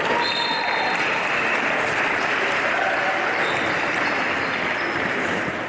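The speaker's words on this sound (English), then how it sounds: "A big round of applause for Knox as they leave the court." Dense, steady applause from a crowd at a U16 girls' basketball grand final as a team leaves the court, loud and continuous throughout.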